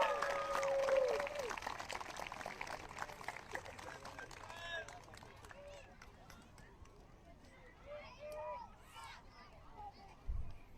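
Applause from a middle school crowd for an 8th grade football team at an evening game ceremony, a dense patter of clapping that fades to scattered claps with some voices around it.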